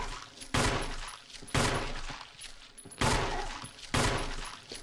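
Gunfire in the Resident Evil HD Remaster video game as a zombie is shot: four loud, sharp shots spaced about a second apart, each with a ringing decay, no talking.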